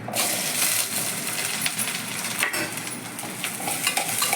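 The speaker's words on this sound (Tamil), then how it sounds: "இப்போ 10 பல்லு பூண்டு, ஒரு 20 சின்ன வெங்காயம்" Garlic cloves and small shallots hit hot oil with fried fenugreek seeds, setting off a dense, loud, continuous sizzle and crackle close by, with a few clinks from stirring.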